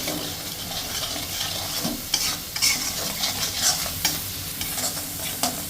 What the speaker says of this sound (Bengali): এখন আমি পোস্তটাকে ভালোভাবে কষিয়ে নেব